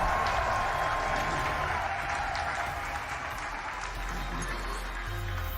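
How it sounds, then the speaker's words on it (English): Cheering and applause from French fans in the arena crowd at an Overwatch World Cup esports match form a steady, broad roar that fades a little toward the end. "you hear the crowd just gearing up, especially all the French fans in attendance here today"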